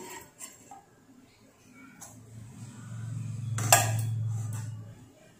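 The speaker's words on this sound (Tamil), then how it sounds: "இதுல நம்ம ஊத்தி வச்சிருக்க அந்த கேக் கப்பை வெச்சிடலாம்" A cake cup of wheat-flour batter is set down into a preheated pot with one sharp metallic clink, over a steady low hum from the stove that swells as the cup goes in.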